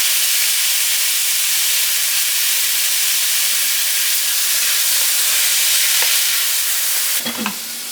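Zucchini for bibimbap fries in a hot pan, a steady loud sizzle and hiss throughout with faint stirring, then a brief scrape and clatter at the very end.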